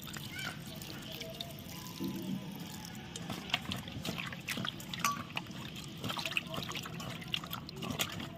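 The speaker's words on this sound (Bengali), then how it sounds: "এবার আমি লেটা মাছটা আবারও পরিষ্কার জল দিয়ে ধুয়ে তুলে নিচ্ছি।" Leta fish being rinsed in clean water, with faint close splashing, trickling and dripping sounds as the fish is handled and lifted, quiet and irregular throughout.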